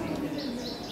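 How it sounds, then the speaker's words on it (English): Birds chirping at Epcot in Walt Disney World, a brief, faint high twittering over a busy crowd murmur and nearby voices. "We have birds. Is it a real bird?"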